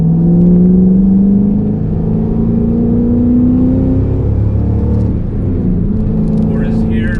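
Engine of a 2013 Shelby GT500 accelerating on an open, bumpy road, a loud steady low drone rising gradually in pitch inside the cabin, with a brief burst of talk near the end.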